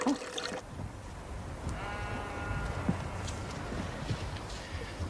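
A sheep bleats once at a farm lambing, a wavering mid-pitched cry that rises over a steady background of rustling and movement, with no clear voices.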